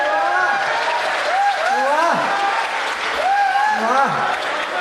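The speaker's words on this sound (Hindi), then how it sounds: "आप सबने मन के साथ ताली बजाई" An audience in a hall at a Hindi comedy poetry show claps steadily, a sustained wash of applause that a voice talks over throughout.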